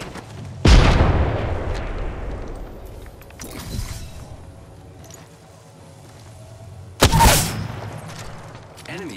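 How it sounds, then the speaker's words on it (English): Apex Legends combat: a loud grenade blast lands near the start, scattered gunfire and a smaller thud follow, then a second sharp explosion hits late, with a voice speaking under the action. "Look out, grenade."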